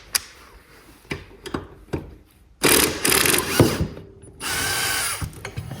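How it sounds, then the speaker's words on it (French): Mechanical whirring and rattling from a tool working on the bolt holding a lawnmower blade, preceded by a few sharp metallic clicks, then loud sustained buzzing runs close up. "Je vais finir à la clé à choc."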